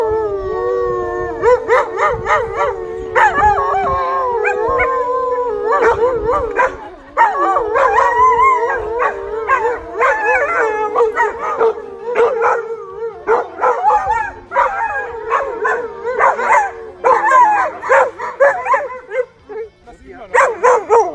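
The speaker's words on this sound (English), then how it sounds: "we was in a big dog reunion with dogs with the same breed like Apollo" Dogs of one breed gathered at a breed reunion bark, yip and howl together in a loud, dense chorus, with long wavering howls and sharp barks overlapping close by while people talk among them.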